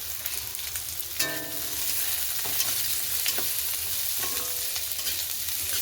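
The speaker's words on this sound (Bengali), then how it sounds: "পেঁয়াজটা জাস্ট হালকা অল্প ভেজে নেবো" Onion with garlic fries in a hot pan, a steady close sizzle broken by the occasional scrape and clink of a stirring spoon, with no voices.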